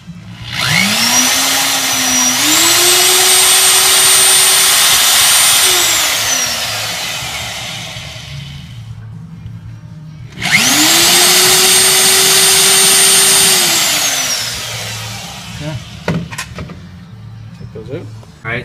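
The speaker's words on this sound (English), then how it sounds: "the new holes have been drilled out to half inch diameter" Power drill boring half-inch holes through a classic Mustang's steel shock tower, two long loud whining runs that rise in pitch as the bit spins up, then wind down, separated by a quiet gap, with clatter afterward.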